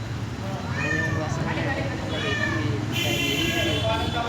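A cat trapped down a well meows repeatedly in drawn-out cries over a constant background rumble, with people talking nearby.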